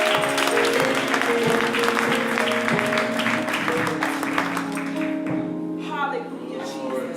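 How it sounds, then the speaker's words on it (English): Congregation clapping hands during a night of worship service, sustained rhythmic clapping over sustained organ or keyboard chords, fading near the end. "we clap our hands and give you praise"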